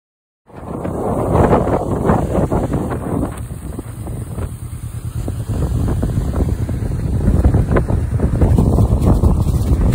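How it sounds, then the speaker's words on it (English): Wind roars steadily across the microphone while cycling outdoors on a ride from Achill to Letterfrack, a continuous loud buffeting rush that builds slightly toward the end, with no talking. "Wind is my nemesis today."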